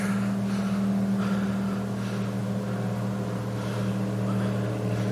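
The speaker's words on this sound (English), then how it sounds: "show y'all the footage of that boat speeding through the river" A steady motor drone from a boat speeding along the Colorado River toward Lee's Ferry in northern Coconino County, Arizona, runs throughout, a continuous low hum with faint whooshing, heard from a distance with no voices.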